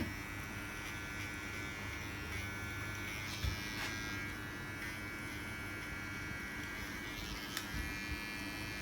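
Electric hair clippers trimming and edging a high taper haircut, a steady close buzzing hum running throughout with slight shifts in pitch and a few brief clicks.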